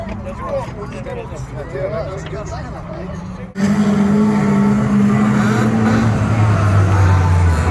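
CC rod banger racing cars at Lochgelly Raceway in Scotland, engines roaring loudly and continuously as the race ends, with a sudden jump to a louder, steadier drone partway through.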